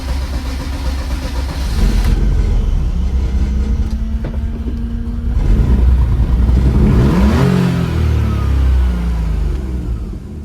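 A BMW E46 engine, long unstarted, cranks a little longer than it should before catching, then runs and revs through several rising and falling swells, loud and close with no talk.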